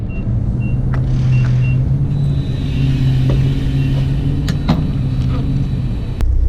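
A Honda Civic EG hatchback with an H2B engine drives along, its steady, loud engine drone and low rumble holding at a constant level throughout, with a few brief faint clicks and ticks on top and no talking.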